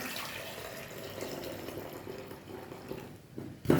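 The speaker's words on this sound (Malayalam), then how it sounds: "ഇതിൻ്റെ വെള്ളമെല്ലാം തോർത്തിട്ട് നമുക്ക് എടുക്കാം" Water trickles and splashes softly as it drains away, close and fairly quiet, ending with a brief clatter.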